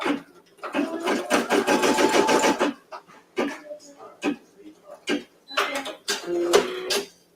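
A sewing machine stitches a key ring onto a zipper pouch in quick bursts, a sustained rattling run followed by shorter stop-start spurts, close and fairly loud.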